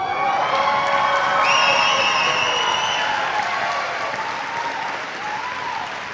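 An audience applauds at a Rosie the Riveter Trust celebration, a dense, sustained wash of clapping with some cheering and whistles, loud and close throughout, slowly easing off toward the end.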